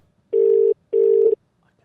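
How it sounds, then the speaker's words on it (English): A telephone rings on an outgoing call: two short, even electronic ringback pulses separated by a brief gap, clear and close, with no talking. "Should we not ring Adam Bloom?"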